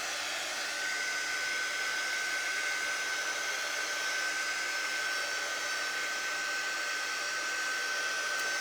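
Handheld hair dryer blowing steadily to dry freshly applied stencil paste on a surface, a continuous close whoosh with a faint high whine, unbroken for the whole stretch.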